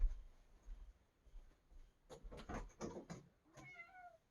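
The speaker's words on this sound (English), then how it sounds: "Now why don't you say something? I know you can talk, cat." Indoors, a house cat gives a few short meows after some soft knocks and rustling, the last call rising and falling clearly at close range.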